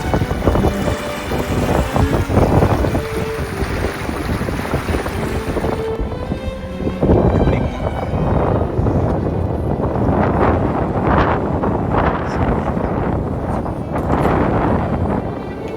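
Strong wind roars across the microphone aboard a sailboat moving at 21 knots, loud and continuous with gusty surges and rushing water beneath.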